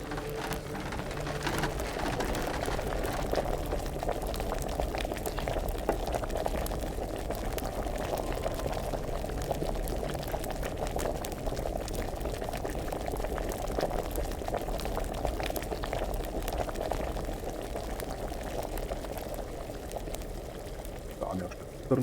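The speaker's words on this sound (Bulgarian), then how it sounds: "Караме го да ври 2 търна." Steady bubbling of a valerian brew boiling in a medieval alchemy pot in a video game, continuous and close, with a voice talking over it.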